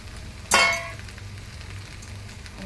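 Cashews and other dry fruits with cardamom tipped into hot ghee in a kadhai hit with a sudden loud sizzling burst that quickly fades to a faint, steady fry, with no voices.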